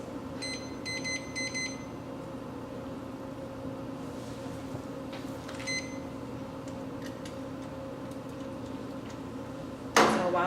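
A kitchen timer chirps in quick clusters of short high beeps as it is set, over a steady stovetop hum, followed by a brief clatter near the end.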